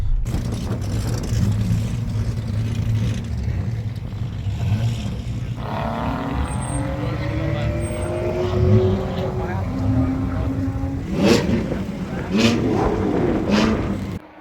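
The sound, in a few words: cars driving on a racetrack at a car meet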